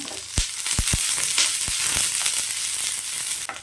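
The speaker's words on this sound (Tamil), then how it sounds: "கொஞ்சமாக எண்ணெய் சேர்த்துக்கோங்க வெங்காயத்தை நல்லா வதக்கிக்கலாம்" Onions and cashews sauté in a little oil for a potato gravy, a steady bright sizzle with several sharp spatula knocks and scrapes against the pan near the start, close and moderately loud.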